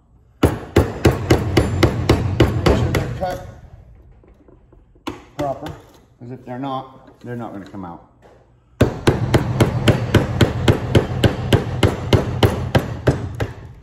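Steady rapid hammer blows knock copper windings out of a salvaged blower fan motor, loud and close in two long runs with a spoken stretch between them.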